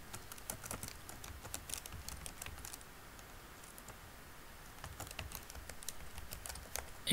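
Fast, light keystrokes on a computer keyboard while an activity name is entered in Android development software, a steady patter of small clicks with a brief pause midway, faint over a low room hiss.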